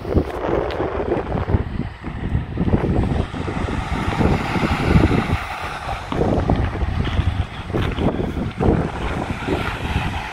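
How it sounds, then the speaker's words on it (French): Loud, continuous wind buffeting the microphone at a scenic lookout on the Spanish coast, a rough roaring rumble that swells and dips throughout with no voices. "Désolé pour le vent."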